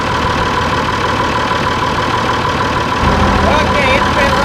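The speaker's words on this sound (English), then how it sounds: "So we gotta let it sit here and idle for a little bit." A vehicle engine idles steadily during fall maintenance while the charging system's voltage regulator warms up, a continuous loud hum with a slight rise in low rumble near the end.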